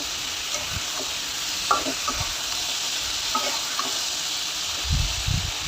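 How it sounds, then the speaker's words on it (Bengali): Okra stirred and frying in a pan gives a steady hiss of sizzling oil, with soft scraping strokes of a spatula surfacing now and then, close up and with no voices. "এইভাবে নেড়ে চেড়ে উল্টিয়ে পাল্টিয়ে আমি ভাজা করে নিছি"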